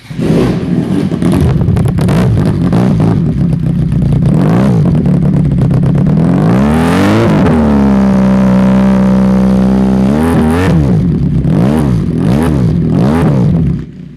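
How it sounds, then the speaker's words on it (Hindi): A 400cc twin-cylinder EFI sports motorcycle engine revs hard close by, rising and falling through several throttle blips, with a sustained high rev in the middle. "ये बहुत अच्छा साउंड है, मतलब क्या मैं कहता हूँ तो मार धार से भरपूर साउंड है बाइक का"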